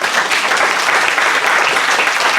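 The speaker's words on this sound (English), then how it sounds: "Let's give her a clap." Church congregation applauding after a sermon, a close, loud and steady burst of many hands clapping together, even throughout with no talking on top.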